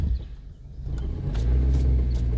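A 2003 Honda Element engine with a newly replaced catalytic converter idles and then revs with a deep, steady rumble, close by and loud, with no talking.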